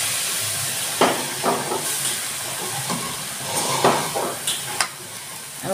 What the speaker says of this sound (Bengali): গুড় দিয়ে নারকেল দিয়ে একটু নাড়াচাড়া করে একটু পুর তৈরি করে নিচ্ছি।